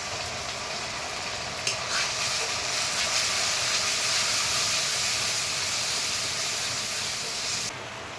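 Chili and turmeric powder sizzle and hiss in a hot pan after a splash of water, a steady loud frying with brief stirring scrapes before it drops slightly near the end.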